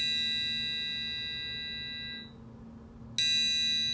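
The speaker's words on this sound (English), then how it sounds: "A couple of techniques when you're striking, you're gonna do muffling techniques, which is like this." A struck triangle rings bright and sustained, then is muffled to a near stop. After a short pause it is struck again, and the clear, shimmering tone returns loudly.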